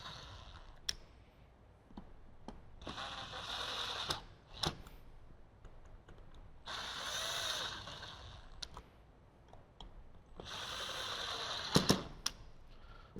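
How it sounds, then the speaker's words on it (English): A power screwdriver tightens a screw during a Harley-Davidson motorcycle audio system install, heard as several short bursts of ratcheting, whirring mechanism noise with clicks between them, fairly quiet and with no talk. "I usually get it most of the way down with the power screwdriver"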